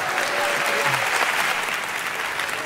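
Sustained applause from a television studio audience at a Spanish comedy show, loud and even throughout, a thick crowd of clapping with no pauses.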